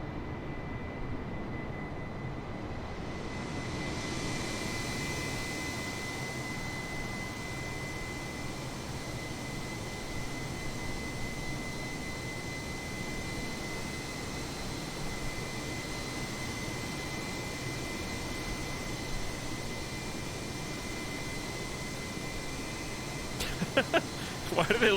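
An airplane jet engine in a flight video game gives a steady, broad roar that holds near-constant for a long stretch. It swells slightly early on and ends with a few faint clicks.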